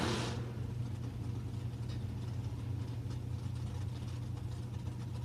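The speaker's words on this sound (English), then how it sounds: "that's a dragster over there on the right side" A dragster idling at a drag strip, a steady low mechanical rumble that holds evenly throughout at moderate distance, with no talk over it.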